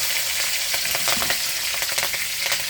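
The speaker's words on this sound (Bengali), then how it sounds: "এখানে দিয়ে দিচ্ছি কারি পাতা, এখানে দিয়ে দিচ্ছি কাঁচা লঙ্কা কুচি" Curry leaves and chopped green chili hit hot oil in a pan, producing a loud, dense sizzle with sharp popping bursts, heard close up with no talking.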